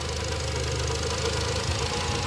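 A 2011 Nissan Qashqai 1.6 petrol engine with an LPG conversion runs rough at idle, giving a steady, close, loud mechanical drone with an uneven knocking shake and no voices.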